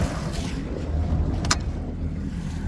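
A 2021 Mercury 250 ProXS outboard on a 2021 Ranger bass boat runs in reverse, giving a steady low churning rumble with water wash, close and continuous.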